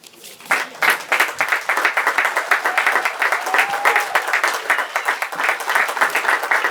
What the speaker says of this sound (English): Oh, I wouldn't be clapping yet